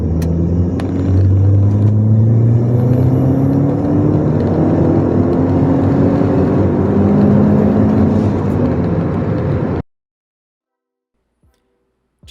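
A turbocharged 1.8T engine fitted with a downpipe makes a dyno pull. It is a loud, sustained drone whose pitch climbs steadily as revs build, then cuts off abruptly into silence.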